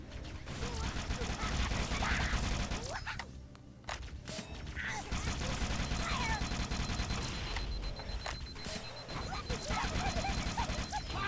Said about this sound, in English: the Needler fires slow homing shards of crystals that explode should